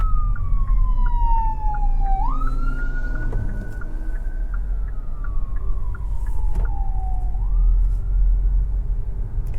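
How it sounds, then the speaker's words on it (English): An ambulance siren wails up and down in long sweeping cycles, loud and steady over the low rumble of a 2025 Kia Seltos SX AWD cabin on the road, with no talking. "There's an ambulance coming."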